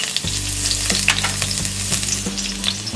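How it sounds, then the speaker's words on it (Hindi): Green chilies fry in hot oil in a pan with a loud, steady, close crackling sizzle, alongside a constant low hum and the occasional stir, and no talk. "तेल गरम हो गया है। अब हम इसमें डालेंगे ये ग्रीन चिलीज"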